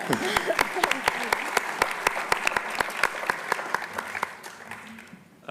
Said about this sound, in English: Another round of applause for John for that amazing ad lib